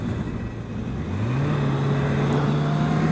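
Kawasaki Z1000 motorcycle, a rider's bike after an earlier 2003 Z, accelerating hard into a power wheelie: a loud, close engine note that climbs steadily in pitch and holds high and strong to the end.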